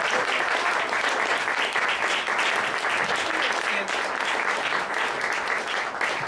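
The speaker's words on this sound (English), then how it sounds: "how about a nice round of applause for Julie?" Dense, sustained applause from a museum audience fills the whole stretch, steady and loud, honoring actress Julie Adams after a Q&A session at the Hollywood Heritage Museum.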